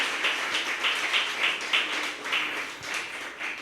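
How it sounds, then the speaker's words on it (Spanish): A church congregation applauds a newlywed couple during a Sunday sermon, a steady wash of many hands clapping at moderate volume with slight surges, no voices over it. "Denle un aplauso a los que no lo hayan felicitado."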